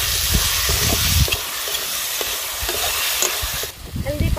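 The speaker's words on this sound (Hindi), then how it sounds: "पेस्ट किया हुआ टमाटर को भी डाल देंगे।" Pasted tomato tipped into a sizzling Pangas fish curry and stirred, a steady close fry hiss with scraping spoon strokes in a village kitchen, no talk.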